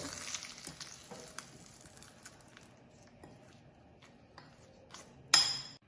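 Curd being stirred into leftover rice seasoned with asafoetida in a pan, giving soft scraping and faint sizzling with occasional utensil taps, ending in a louder clatter against the pan.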